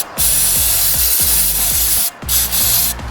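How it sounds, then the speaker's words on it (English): Rapid bursts of aerosol cleaner spray hiss loudly up close onto a Nissan Rogue's MAF sensor, broken by brief pauses between squirts. "I'm gonna go ahead and just spray a little bit of cleaner there"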